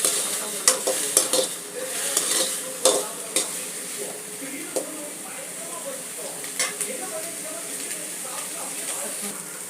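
Onions and tomatoes sautéed in a pan, with irregular spoon scrapes and taps over a light, steady sizzle.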